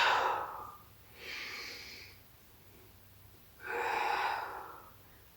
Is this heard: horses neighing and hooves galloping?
no